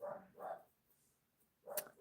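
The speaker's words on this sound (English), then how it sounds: "you can hear my dogs are barking" Pet dogs barking in a home, three loud bursts spread over about two seconds with quiet gaps between, no talking.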